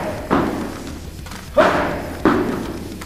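Three heavy thuds of battle ropes slamming the floor during a rope training workout, spaced roughly a second apart, each sharp impact followed by a short rumbling decay.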